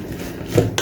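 Curried chicken stirred in a pot with coconut and Indian curry powder: a brief, close scrape and clink of a utensil against the pot, with a louder knock near the end.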